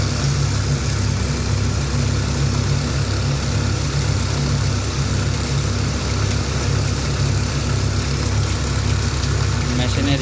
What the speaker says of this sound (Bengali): এখন আমরা মেশিনটাকে চালু করে দেবো